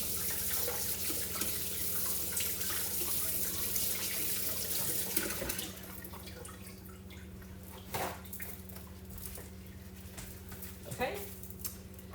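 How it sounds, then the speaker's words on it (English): Tap water runs steadily into a kitchen sink while a spatula is rinsed off during marble Bundt cake preparation, a continuous splashing flow that eases off midway, leaving quieter drips and a few small clatters. "let me rinse out this spatula because I think this will be easier to use than the wooden spoon."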